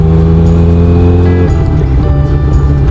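A car engine rumbles close by with a steady drone, shifting pitch midway as the vehicle drives past, heading up a road near a dam on a cold morning.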